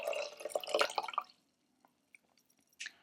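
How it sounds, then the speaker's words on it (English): Water poured from a glass into a cup during a preschool kitchen activity: a steady trickling splash for over a second, then scattered faint drips and a brief final splash. "hold it over the top of the other cup and pour it in."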